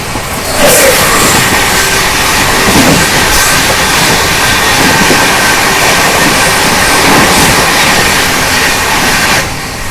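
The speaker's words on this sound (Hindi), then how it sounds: "यार ये महाराष्ट्र संपर्क क्रांति एक्सप्रेस।" Maharashtra Sampark Kranti Express rushing past at close range, a loud, steady roar of wheels and wagons with rhythmic clatter that carries on for nearly ten seconds, then drops away sharply at the end.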